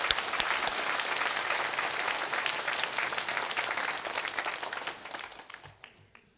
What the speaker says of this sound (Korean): 여러분 따뜻하게 우리 선생님들을 위해서 축복의 박수 한번 하겠습니다